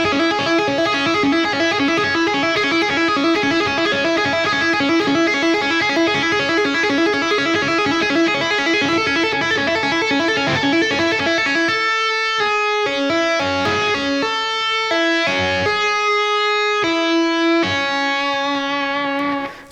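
Electric guitar playing fast two-handed tapped arpeggios, sped up: a dense, continuous rippling run for about twelve seconds, then choppier, separated tapped notes, loud and steady with no talking.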